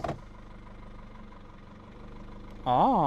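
Cold car engine idles softly and evenly for a few seconds after a start under five minutes old, then a louder swelling tone rises as the car is shifted into drive.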